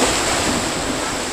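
Ocean waves washing onto a beach at Phan Rang, Vietnam, a continuous loud broadband rush of surf mixed with wind buffeting the microphone, no voices.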